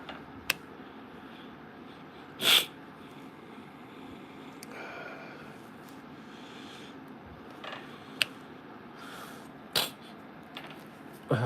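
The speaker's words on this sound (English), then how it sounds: "Don't mind the sniffling" A man sniffles through a congested nose: a few short, sharp sniffs spread apart, close to the mic, over a steady low background hum with no talking.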